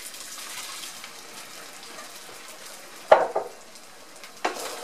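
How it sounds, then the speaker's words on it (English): Tomatoes dropped into a pan of Spanish rice with bacon and green peppers, giving a sudden sharp sizzle and splatter over a low background hiss, followed by a second smaller burst of frying. "I'm going to go ahead and add my tomatoes"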